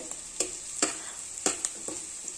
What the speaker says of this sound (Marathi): आणि परतून घेऊया गोल्डन ब्राऊन होईपर्यंत